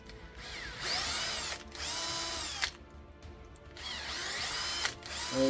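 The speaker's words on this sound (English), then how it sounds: "So this is an M6 drill." An electric drill with an M6 bit whirs in three sustained bursts with brief pauses between them, loud and close, no voices present.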